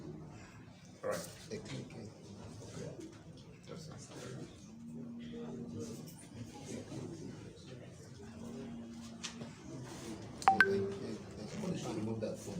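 Phone tones sound on a conference call, two short steady beeps spaced a few seconds apart over a murky line with people talking underneath, plus a couple of sharp clicks near the end.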